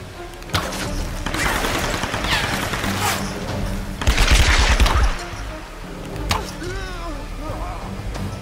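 Gunfire rattles through a Tomb Raider play session, with repeated shots and a heavier burst near the middle over a rumbling game soundscape with other effects.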